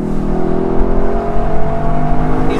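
A 2021 Lexus LC500 Convertible's naturally aspirated engine revs steadily at high pitch, a loud continuous mechanical roar with layered harmonic whine, sustained throughout without any voices.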